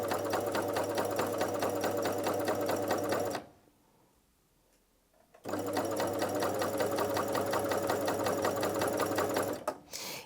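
A Janome CoverPro 3000 coverstitch machine sews a seam with a loud, steady mechanical whir and rapid rhythmic stitching. It pauses for about two seconds midway, then resumes at the same pace.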